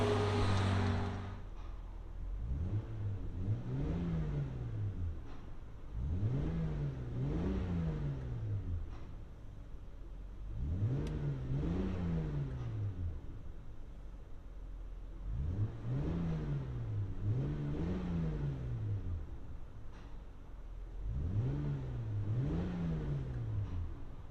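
Engine revs of a 1996 Toyota Land Cruiser 4.5L inline-six with high-flow cats and Borla Pro XS exhaust rise and fall repeatedly, heard muffled from inside the cabin, a steady idle between each deep swelling rev.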